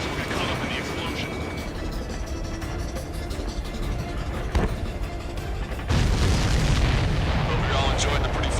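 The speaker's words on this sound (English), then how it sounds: "We'll get caught up in the explosion." Massive explosion from an air-defense strike in Ace Combat 7: a sustained rumbling roar with a sharp boom midway and a louder burst of blast noise near the end.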